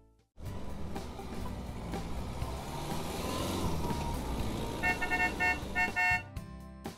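A cartoon truck on the road honks its horn several times in short bursts over a steady engine rumble near the end of the stretch, with the engine sounding throughout.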